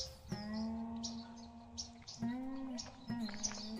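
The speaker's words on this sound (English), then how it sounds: "You can hear the birds." Birdsong carries through a natural setting of trees and flowers, with a few clear chirps and whistled calls spaced over a steady background, fairly close and moderately loud.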